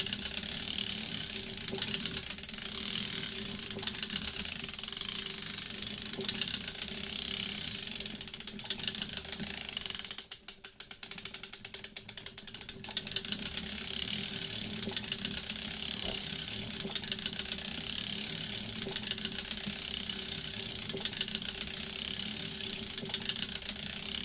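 A hand-cranked circular sock knitting machine turning steadily, with a continuous fine mechanical clicking and whirring of needles and latches that pauses briefly partway through before resuming.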